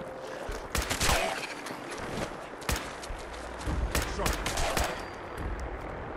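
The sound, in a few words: gunshot from Fallout 4 video game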